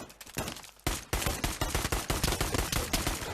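Rapid bursts of gunfire from the VR shooter game Pavlov, loud and close, with repeated sharp shots in a fast automatic rhythm after a brief quieter lead-in.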